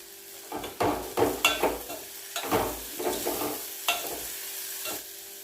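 A spoon stirs chili powder and salt through a sizzling pan in bursts of scraping strokes, several in quick succession, then a pause and a few more, close and clear over a low frying hiss with no speech.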